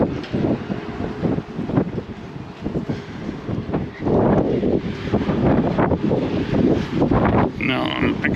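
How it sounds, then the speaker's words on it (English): Wind buffets a microphone at a seaside hotel entrance in Palmanova, Mallorca, as a steady, loud rushing roar with gusty swells, and someone talks over it. "Now I'm exposed to the wind. It's a bit breezy."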